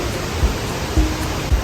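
A river fed by a waterfall at La Fortuna rushes as a steady, loud broadband wash, with a few low thumps from wind or handling and no voices.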